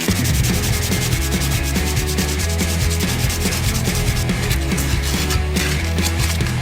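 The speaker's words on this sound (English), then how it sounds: "so now it's on the sanding." Sanding paint on an oak gumball vending machine produces a loud, steady, continuous rasping rub close by, with a fast scratchy back-and-forth texture and no voices.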